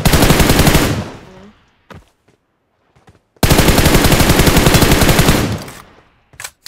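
Two long, loud bursts of rapid automatic gunfire in the video game PUBG Mobile, separated by a quiet gap holding a few single shots, close and dominant.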